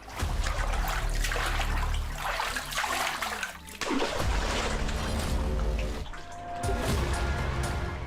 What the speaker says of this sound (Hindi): हम बढ़ते जा रहे थे, तभी पानी में कुछ गिरा।